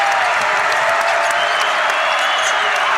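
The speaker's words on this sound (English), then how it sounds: "And this Carver crowd is on their feet, wanting a defensive stop by the Braves." A basketball arena crowd cheers on its feet, a dense, loud roar of voices and clapping that stays steady throughout.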